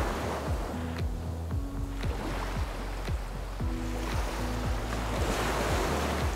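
Ocean waves break and wash continuously onto a white-sand Barbados beach near rock barriers, a loud, steady surf roar mixed with wind buffeting the microphone.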